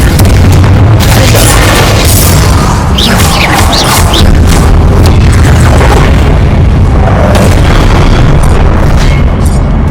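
Confringo blasting spells in Hogwarts Legacy, a loud dense barrage of booming explosions and crackling bursts that runs without pause, heavy low rumble under sharp pops and debris crashes.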